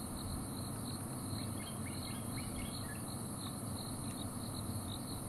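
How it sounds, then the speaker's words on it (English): Cicadas in the African bush at sunset make a continuous, even drone that stays faint and constant throughout, with no voices over it. "The cicadas are still going."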